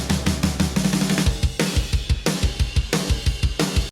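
Punchy, polished drum kit playing a busy groove with fills, tight kick and snare and bright crashing cymbals, loud and full.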